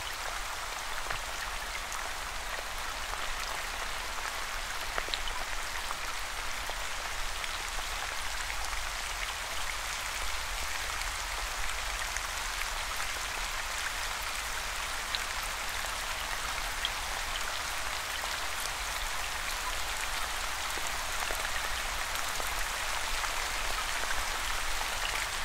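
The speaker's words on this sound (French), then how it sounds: "Tentez du mieux possible d'imaginer l'odeur de cette pluie qui tombe." Steady rainfall patters on surfaces as a continuous, even wash with scattered tiny drop ticks, moderately loud and unchanging throughout, with no voices.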